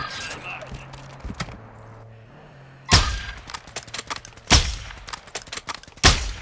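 Loud single gunshots in the video game Call of Duty Warzone 2.0, spaced a second or more apart with quieter game noise between, and a person talks among the shots.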